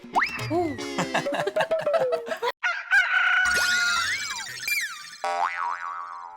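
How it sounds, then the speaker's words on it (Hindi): A rooster crows amid a jumble of cartoonish sound effects, including springy boings and sliding whistle-like tones. "तुम्हें मुर्गी की आवाज आई अभी?"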